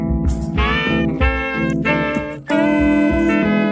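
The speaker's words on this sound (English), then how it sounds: "section with the horns sounds like this." Brass horns play a short, bright phrase of sustained chords, loud and close, with a rhythmic pulse underneath.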